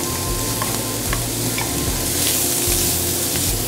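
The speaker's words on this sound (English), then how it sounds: "And they're going to cook right in the bacon fat." Mushrooms fry in hardwood-smoked bacon fat in a warm pan, giving a loud, continuous crackling sizzle with light stirring scrapes throughout; no one talks.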